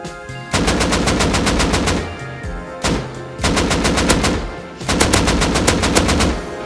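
An AK rifle fires in the survival video game Rust in three loud, rapid automatic bursts of about ten shots each, close and punchy, separated by short pauses.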